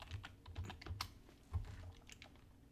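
Quick typing on a computer keyboard: a run of light, irregular key clicks and taps, close but quiet, with no talk.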